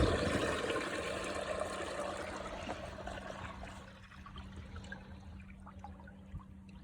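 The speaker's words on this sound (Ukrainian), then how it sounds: "Запускаємо насос водички, дренажа втім." A drainage pump pushes dirty water flushed out of a newly drilled well along a fence, a steady rushing, splashing flow with a constant low hum, close and loud throughout before easing slightly toward the end.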